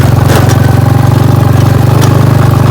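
A motor vehicle engine runs loud and close during a ride, a steady pulsing low rumble with a regular throb throughout, with no voices.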